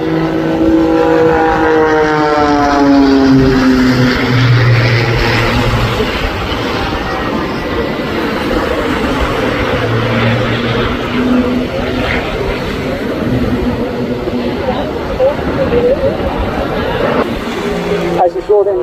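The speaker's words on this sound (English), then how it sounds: "And you get all of that inside such a diminutive biplane." Propeller engine drone of a small biplane flying at the Blackpool airshow, a loud continuous hum with wavering tones, sounding close under steady crowd and commentary noise throughout.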